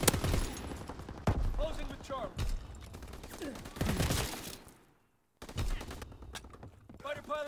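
Aircraft strafing fire in a war video game, heard as rapid bursts of machine-gun shots mixed with explosions and a game voice, cutting to near silence briefly before the firing resumes.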